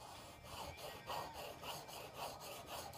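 A steel chisel is pushed in repeated rasping strokes across a sharpening stone, with steady rhythmic scraping about every half second, close and moderately quiet.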